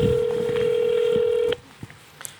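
A steady electronic telephone ringing tone on an outgoing call sounds for about a second and a half, then cuts off, leaving faint clicks and room noise.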